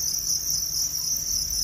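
Crickets on a cricket farm chirp in a dense, continuous high-pitched trill that stays steady and loud throughout, with no other sounds.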